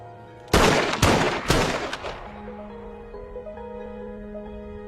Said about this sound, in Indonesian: dengan berat hati menembak kakaknya tersebut hingga tewas